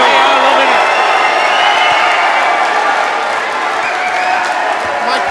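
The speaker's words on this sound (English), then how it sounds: "Crowd have gone absolutely wild. They are loving it." A large crowd roars and cheers wildly at an amateur MMA fight in West Wales, a sustained loud wall of shouting and whooping with a commentator's voice running over it throughout.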